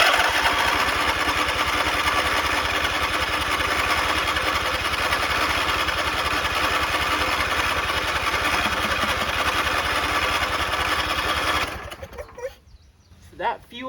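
An old, neglected John Deere engine runs steadily on choke, loud and close with a constant mechanical drone, then cuts out near the end, leaving quiet with a few small knocks.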